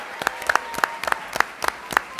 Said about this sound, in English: How about a round of applause for all of our students in this room currently right now?